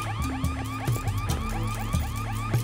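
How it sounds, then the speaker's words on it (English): A museum alarm rings loudly and continuously, a warbling electronic siren with repeating rising sweeps and steady tones, close and filling the whole stretch with no voices. "Connor, that's the alarm at the museum"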